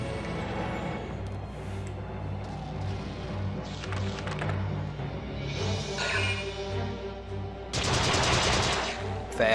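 Rapid bursts of gunfire from the Valkyria Chronicles II video game, sustained crackling shots layered over game music and effects, with a louder, denser volley near the end.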